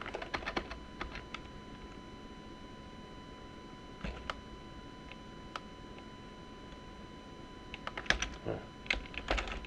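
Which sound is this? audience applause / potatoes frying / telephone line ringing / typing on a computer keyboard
typing on a computer keyboard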